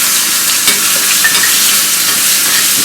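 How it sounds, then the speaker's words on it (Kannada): Green chillies sizzling and frying in hot oil with mustard seeds, cumin and asafoetida for green lentil dal, a loud steady close hiss with faint stirring, no voices. "ಜೀರಿಗೆ ಸ್ವಲ್ಪ ಚಟ್ಕೊಟ್ಟು ಮೆಣಸಿನ್ಕಾಯಿ ಹಾಕೋಣ"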